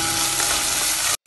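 Garlic and ginger paste sizzles and spits steadily in a hot pan as it is stirred in, a loud, dense frying hiss that runs unbroken for about a second before cutting off abruptly.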